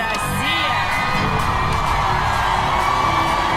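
A large arena crowd at a televised song contest roars with sustained cheering, whoops and screams, loud and continuous, with high shrill yells rising above the dense applause-like wash.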